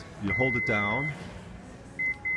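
A Toyota power liftgate gives two short, sharp confirmation beeps in quick succession during a reset, coming right after a person speaks briefly.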